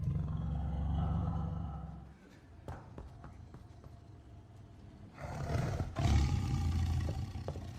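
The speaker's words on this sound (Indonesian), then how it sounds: "Yang harus dilakukan dengan segera itu memindahkan harimau sialan itu dari sini" A tiger lets out a deep, rumbling roar that swells near the start and comes again toward the end, loud and close, with thuds and scuffles between the roars.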